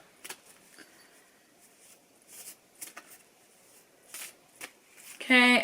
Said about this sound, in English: Okay, shuffle these again.